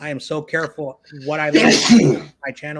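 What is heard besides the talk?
sneeze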